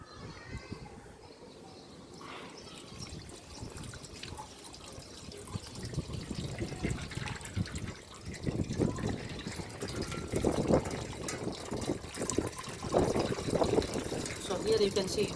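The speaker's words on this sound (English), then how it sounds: "So here I am pouring water." Water is poured by hand onto a small hydro turbine model, a splashing, gurgling flow that grows louder and fuller partway through, with no speech.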